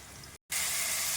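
Garlic paste hits onions frying in a pan for mutton keema with a loud, steady hiss, cut by a split-second silence before the sizzle returns even stronger, close and without talk.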